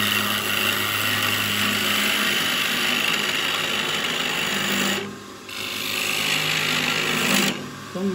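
A woodturning lathe spins up to around 1500 RPM while turning an inside-out ornament, giving a steady close mechanical whir that dips briefly near the end before resuming, with no talk.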